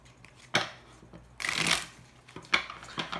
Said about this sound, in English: So let's get your cards out.